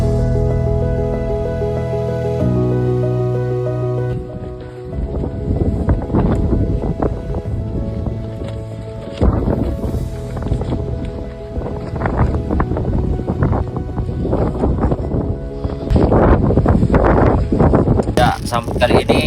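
After a few seconds of music, strong pre-dawn wind on the Mount Kerinci summit trail batters the microphone in rough, rumbling gusts, with voices talking through it.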